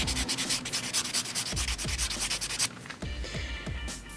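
Gel nails being buffed with a nail buffer, a close, steady scratchy rubbing in repeated back-and-forth strokes that continues throughout with no talking.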